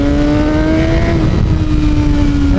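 Middleweight motorcycle engine under throttle while riding, a loud, close, sustained drone with a rising-then-steady pitch over heavy wind rumble, no talking.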